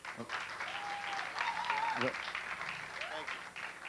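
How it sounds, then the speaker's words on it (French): Audience claps for an absent orchestra member, brief applause with voices talking over it and a whistled or sung tone rising through the middle. "Pour aujourd'hui, il est parti, on l'applaudit quand même."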